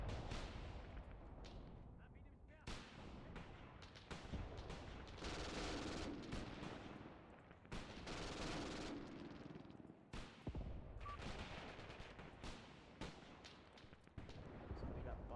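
Artillery fire in the tactical war game Graviteam Tactics, a run of heavy booming blasts and rumbling impacts in quick, irregular succession, loud and dense, with a voice speaking faintly underneath.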